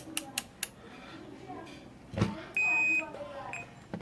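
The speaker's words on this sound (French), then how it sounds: "Je mets sur test diode, sur buzzer." A multimeter set to diode-test buzzer mode gives a steady electronic beep lasting about half a second, following a few short clicks and handling noises close by.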